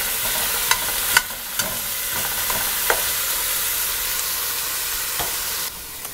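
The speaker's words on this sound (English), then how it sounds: "And all you do is plop your meat in and just kind of move it around, get it nice, and start cooking." Beef sizzles steadily in a hot pan while being cooked for homemade dog food, with occasional scraping clicks of a utensil stirring the meat through a continuous frying hiss.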